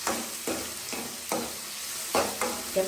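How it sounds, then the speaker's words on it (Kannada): Red chillies frying in hot oil for a sambar tempering while being stirred, with repeated scraping strokes about every half second over a steady sizzle. "ಚೆನ್ನಾಗಿ ಎಣ್ಣೆ ಒಳಗೆ ಕೆಂಪಾಗೋ ತನಕ ಅದನ್ನ ಚೆನ್ನಾಗಿ ಹುರಿಬೇಕು"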